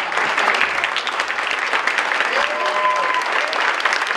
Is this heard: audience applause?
yes